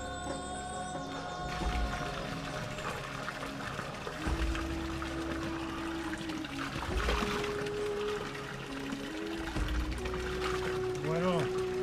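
Water trickles and burbles steadily beside a walking trail on the Camino Primitivo, a soft continuous flow with footsteps and wind rumble mixed in, and a faint bird call near the end.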